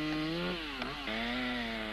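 A motor chainsaw cuts the thick branch off a tree trunk, its engine whining steadily at high revs with a brief dip in pitch midway as the bar bites, loud and close, with no voices.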